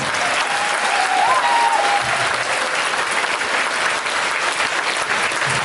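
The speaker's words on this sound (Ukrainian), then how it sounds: "давайте під гучні оплески" Loud, dense audience applause filling a drama theatre as a performer takes the stage, continuous and even throughout with a faint crowd murmur underneath.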